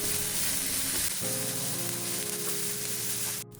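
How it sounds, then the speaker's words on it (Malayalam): Onions sautéing with a spice paste in a pan for a cheesy chicken pops dish, giving a steady close sizzle with faint stirring scrapes and a brief clatter near the end. "ഇതുകൂടി ചേർത്ത് നല്ലോണം വഴറ്റി കൊടുക്കാം. ഉള്ളിയുടെ ഒരു കളറ് മാറുന്നത് വരെ നമുക്ക് ഇങ്ങനെ ചെയ്ത് കൊടുക്കാം."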